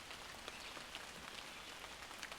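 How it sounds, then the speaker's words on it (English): Light rain drizzles in the woods, a faint, even hiss of tiny droplets pattering on leaves with scattered soft ticks, heard alone at low level. "It's still drizzling."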